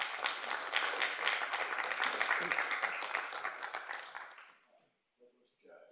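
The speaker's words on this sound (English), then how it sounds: "And so, warm round of applause for Matt." An audience at a talk on clean energy and transport applauds warmly, sustained clapping that fades out near the end, followed by brief faint sounds.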